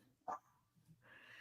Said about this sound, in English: Did I just hear a dog barking?